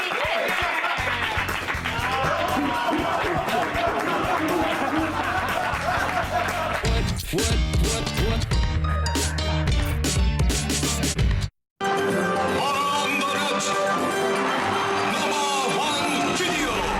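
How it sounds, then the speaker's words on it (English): Studio audience at the live TV show Attack of the Show cheering loudly, with sustained applause, whoops and crowd noise running nearly throughout, broken by one brief cut to silence before the cheering resumes. "I love this cheering."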